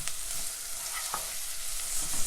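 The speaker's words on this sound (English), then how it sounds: "I'm just putting the onions in just now, not the garlic yet" Onions frying on high heat in a pan with steady sizzle and a few scraping stirs of a utensil, fairly quiet and with no voices.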